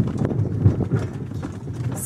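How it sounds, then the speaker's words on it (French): Horse hooves clip-clop at a quick trot on a hard road, mixed with rolling wheel noise from a small horse-drawn cart and faint voices, in Cappadocia. "sommes en cheval, dans un petit chariot, en direction de notre hôtel"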